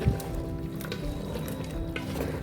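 Chicken frying in a covered pan for biryani is stirred, giving a steady low sizzle with soft scraping and clinks from a spoon against the pan, close and moderately quiet, with no talking.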